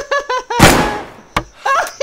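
A single sharp gunshot in the survival video game DayZ rings out loud and close, a broadband crack with a long decaying tail, with speech before it and a second short bang shortly after.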